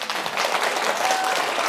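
An audience at a talk on the subconscious and Seth teachings breaks into dense, continuous applause from many hands, steady and fairly loud throughout the short burst.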